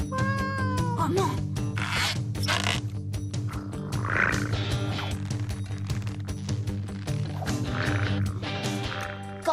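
Cartoon cat meows and yowls repeatedly over a busy orchestral music bed, the cries rising and falling in drawn-out, wavering caterwauls across the whole stretch.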